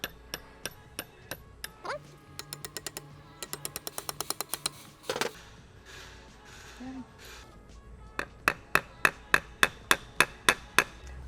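Sharp hammer taps seating a brake caliper clip on a big brake kit, struck in quick rhythmic bursts of several blows with brief pauses between, close and crisp.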